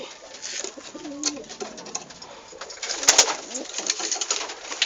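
Soft, low pigeon coos repeat near and far amid a busy flock, with wing flutters and a few sharp clatters.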